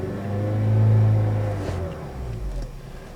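A 2003 Honda Element engine revs up toward its 6,500 rpm redline, swelling to a loud, sustained drone and then easing back down. It sounds close and runs without talk over it.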